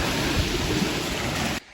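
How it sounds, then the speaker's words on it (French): Ocean waves wash onto the shore of Porquerolles island in a steady, loud, hissing surge that cuts off abruptly near the end. "je sais pas si vous m'entendrez avec le bruit des vagues"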